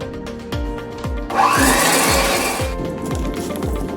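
Electric hand beater whirring steadily as it mixes 200 g of cream cheese with 60 g of sugar, with repeated thumping knocks against the bowl throughout and a louder, brighter burst of whirring in the middle.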